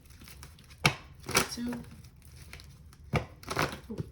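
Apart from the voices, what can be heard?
shuffling a deck of cards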